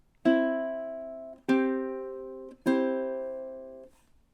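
Ukulele with all four strings plucked together, three ringing strums spaced about a second apart, each sharp attack decaying slowly, close and clear with no talking, from the Jamaican folk song Day-O (The Banana Boat Song).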